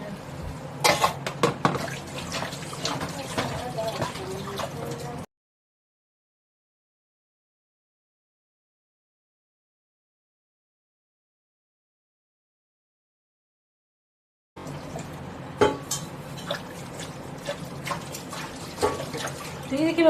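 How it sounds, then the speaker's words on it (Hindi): Dishes are washed by hand under a tap fed from an overhead water tank. Running water splashes with clinks and clatters, then the sound cuts to dead silence for several seconds before the splashing and knocking resume. "और अब मैं जा रही हूँ बर्तन धोने।"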